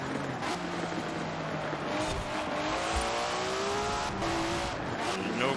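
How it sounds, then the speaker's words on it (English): A car in the Forza Horizon 4 racing game takes corners gently, its engine holding a steady, rising drone with shifting pitch while tires hiss and faintly squeal throughout, close and continuous, with no talk. "There's no way this car will ever be able to go full tilt through these corners."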